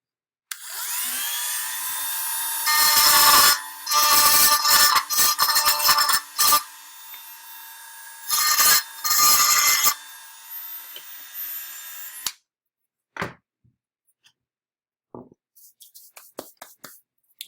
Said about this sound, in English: I'll just trim it up with the Dremel tool.